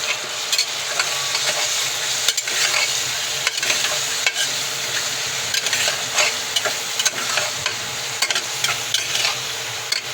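Dense sizzling and scraping as a spoon stirs onion-garlic masala through khichdi in a hot pan, steady and close throughout with no talking.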